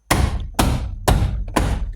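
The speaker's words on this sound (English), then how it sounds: "give it a good little smack, and there we go." Four firm smacks by hand seat a door trim piece into its clips on a Ford F150 extended cab rear door, each a sharp close thud with a short decay, spaced about half a second apart.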